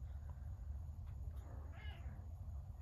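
A domestic cat meows once, a short rising-and-falling call, faint and close against a low steady background hum, with no one talking.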